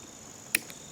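A Subaru Forester brake light bulb socket twists into place with one short, sharp click midway, set against a faint background hiss.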